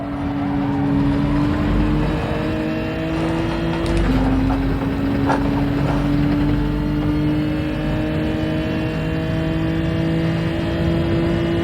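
Race car engines in the Gran Turismo 7 racing game drone loudly and continuously, a steady high whine that shifts in pitch as the cars accelerate through a corner, with no talking.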